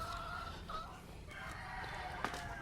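Chickens in breeding pens during molting, with a cock crowing and soft clucks at moderate distance over a steady background hum, no talk present.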